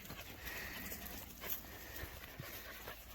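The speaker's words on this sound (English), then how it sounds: "There's all the dogs." Dogs move about outdoors at night, panting and shuffling close by over a constant high insect drone, with no one speaking.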